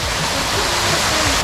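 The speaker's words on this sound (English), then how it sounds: "Nice waterfall fountain." A waterfall fountain in Kalambaka, Greece splashes in a steady, loud broadband rush of falling water that holds for the whole moment, close by and unbroken.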